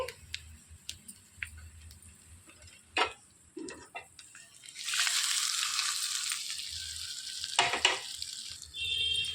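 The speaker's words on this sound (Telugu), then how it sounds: "రెడీ అయిన తాలింపుని స్టవ్ ఆఫ్ చేసేసుకొని ఎగ్ చట్నీలోకి వేసేసుకోవాలండి." After a few clinks and knocks of utensils, hot tempering is poured into egg chutney and erupts in a sudden loud sizzle that hisses steadily for several seconds, with more clatter near the end.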